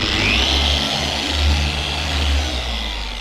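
A dual action polisher spinning a wool pad at a constant speed setting, a steady loud mechanical drone with a low hum, swelling slightly and fading toward the end.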